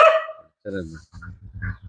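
A dog on a farm in Kerala lets out a single sharp, close bark, followed by people talking.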